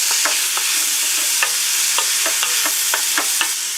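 Garlic sizzling in hot oil in a pressure cooker pot, a loud, close, steady hiss broken by quick stirring clicks and scrapes, with no talking.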